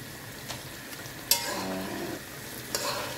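Chopped onions sizzle steadily in hot oil in a pan, a close, continuous frying hiss with occasional soft scrapes and clinks as they are stirred.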